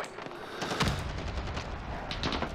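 Gunfire in a Call of Duty Warzone match, dense bursts of rapid automatic shots running throughout, with sharp cracks and a steady background rumble, no talking.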